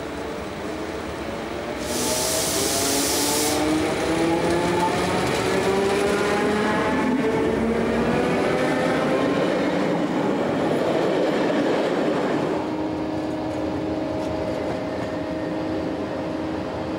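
A train runs on standard gauge track on the Emmental railways near a Swiss station where the line branches from the SBB tracks. It rumbles steadily and fairly close, with rising and falling tonal whines and a brief bright hiss early on.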